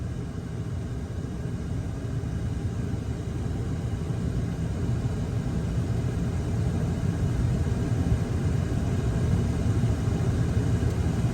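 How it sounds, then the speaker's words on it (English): A Toyota engine running with its air conditioning on after a recharge, the AC compressor clutch cycling on and off; a steady, loud low rumble and hum holds throughout with no distinct breaks. "Every time the clutch cycles, on and off, on and off, on and off."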